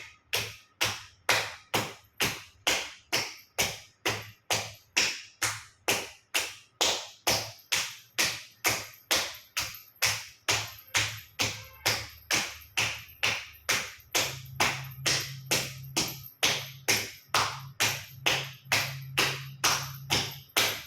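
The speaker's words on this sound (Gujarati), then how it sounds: "બંને સાઈડ પગના તળિયા ઉપર જોરથી ઝાપટ 50 વખત જોરથી તાળી આપીશું." Two hands slap hard on the soles of the feet during a yoga exercise. Sharp, close, evenly spaced smacks follow each other in a fast, steady rhythm for the whole stretch, dozens of them, with nothing else heard.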